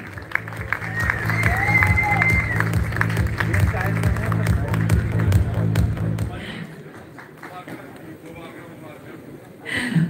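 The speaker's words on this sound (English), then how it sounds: "Everybody, put your hands together for the Grammy Oscar nominated singer performer" A dense crowd applauds and cheers at a Laxmi Narayan Group and Time Group event to welcome a Grammy- and Oscar-nominated singer. Music and a voice play underneath, and the clapping stops abruptly after about six seconds.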